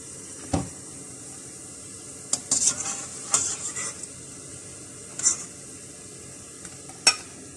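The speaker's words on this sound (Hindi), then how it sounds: "जब तक गुलाब जामुन फ्राई हो रहे हैं" Gulab jamun balls made with milk powder frying in a pan, a faint sizzle under scattered clinks and scrapes of a metal utensil against the pot.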